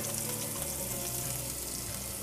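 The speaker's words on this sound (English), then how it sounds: "We'll add in the finely chopped onion" Finely chopped onion frying in a pan with green chilies and curry leaves, a steady close sizzle with a watery hiss running the whole time.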